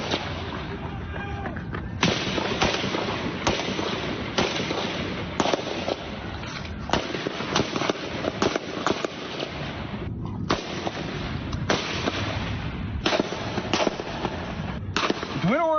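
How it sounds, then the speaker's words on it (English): Rapid sharp cracks of rifle and pistol gunfire in an exchange between two Capitol police officers and a lone gunman at a ballpark, echoing amid continuous outdoor noise with irregular bursts of shots throughout. "you can actually hear this gunfight between 2 Capitol police officers and a lone gunman with a rifle playing out"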